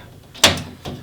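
A coin door on a custom Raspberry Pi arcade cabinet swings open with one sharp metallic clack, followed by a softer rattle near the end, close and alone.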